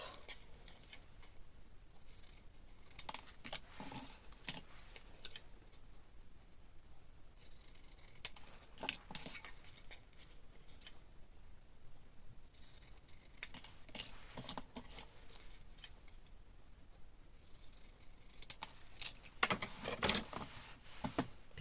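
Scissors snip through panels of craft material, a run of crisp, closely spaced cuts repeating in bursts at close range with no voice over them.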